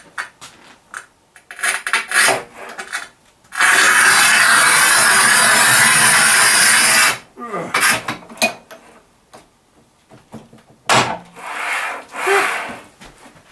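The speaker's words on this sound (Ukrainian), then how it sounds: "зараз ми спробуємо порізати її звичайним ручним плиткорізом, який призначений для, ну, для плитки метр двадцять" A manual tile cutter scores a 120 cm tile in one loud, steady scraping pass of about three seconds, set between shorter rasping and knocking handling sounds near the mic.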